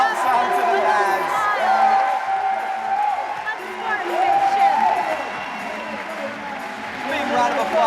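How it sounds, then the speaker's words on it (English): Crowd at a rodeo-style finals event claps and cheers, a broad continuous roar with scattered whoops rising and falling, heard beneath and between voices. "Big round of applause from the crowd."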